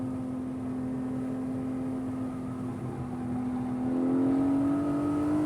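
A Porsche 718 Cayman GTS 4.0 drives on a race track, its engine a steady droning tone heard from inside, pitch climbing slightly near the end as it accelerates, with no talking.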